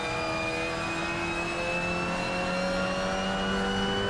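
A Mazda MX5 engine in the Assetto Corsa racing game during an online MX5 Cup race on the Nordschleife, a steady droning engine note with a slowly rising pitch as it accelerates, sustained and close.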